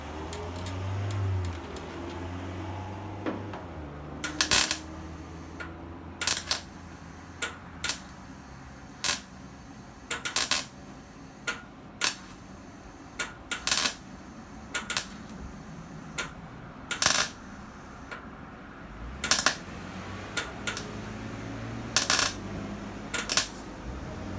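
Repeated short, sharp crackling bursts of gas-shielded welding on a car's front wheelhouse repair panel, spaced a second or two apart outdoors, with wind rumbling in the background between tacks.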